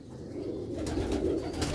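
Sialkoti red-bead pigeons coo softly at close range, a low rolling murmur swelling and fading over a quiet background with no talk.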